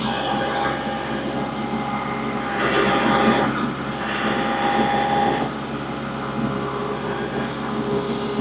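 A wood processor's engine runs in low range and revs up toward 2,000 rpm, a loud, steady mechanical drone that swells in two brief surges before settling, with no voices over it.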